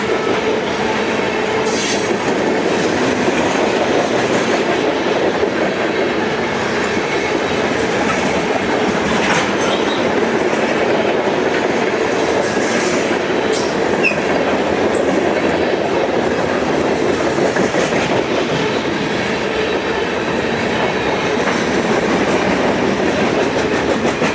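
CSX M513 southbound freight train rolling past at Sebree, Kentucky, a loud, steady rumble of railcars with continuous clickety-clack and occasional wheel squeal throughout.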